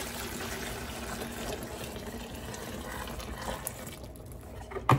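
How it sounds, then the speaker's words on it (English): Salvaged liquid poured into a bucket, a soft continuous trickling fill running steadily for several seconds, then a brief louder clatter at the end, no talk. "I'm going to pour it into the Biga bucket and pop it in the fridge overnight"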